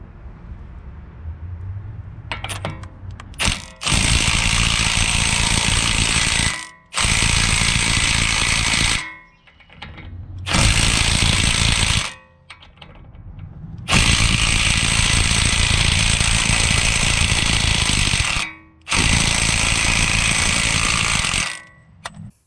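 A Milwaukee compact impact wrench hammers loudly at a car's axle nut in four long bursts separated by short pauses, the rapid rattling impacts close and unaccompanied by talk.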